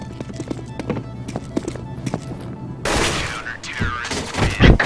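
Counter-Strike: Global Offensive gunfire comes as a burst of sharp shots, the last stretch loud and dense, preceded by quieter clicking footsteps.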